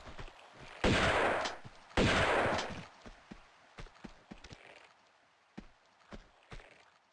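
A shotgun fires twice in the 1997 game Tomb Raider II, two loud, sharp booming blasts about a second apart. Quieter clicks and footsteps follow the shots.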